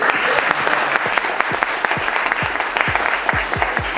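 A workshop group at Chail, Himachal Pradesh, claps for a birthday celebration: a loud, close round of applause with distinct, fairly regular hand strikes running throughout the few seconds.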